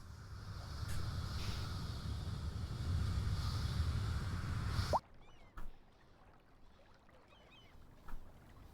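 A boat moves across water in a canal-building game, a steady wash of engine and water noise that abruptly cuts out, leaving near silence broken by a couple of soft splashes.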